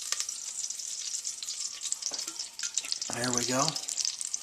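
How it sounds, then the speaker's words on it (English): Olive oil heats in a pot for apricot chicken, sending up a steady, fairly faint crackling sizzle with a few stirring knocks, while a voice speaks briefly near the end. "that's going to be our 2 more tablespoons of olive oil right on in the pan."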